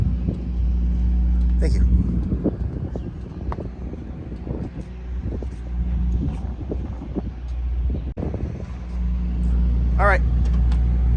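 A 1975 Plymouth Duster's engine rumbles steadily at idle after starting, loud and close, with wind buffeting the microphone and a short spoken phrase partway through.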